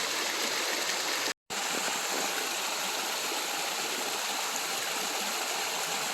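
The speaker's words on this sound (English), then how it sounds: "So this is one waterfall." The top drop of a waterfall on the Clara Lake trail roars in a dense, steady rush of water, loud and close, with a brief dropout early on.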